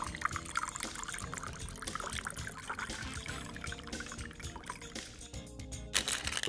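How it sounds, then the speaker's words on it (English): A cocktail is poured from a shaker or mixing glass into a martini glass, a steady liquid pour and trickle running for several seconds close to the microphone, with no talking over it. "So we're gonna pour it into the glass."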